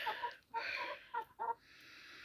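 Soft, short clucks from a sitting, laying hen, a few broken bursts close by in a quiet space.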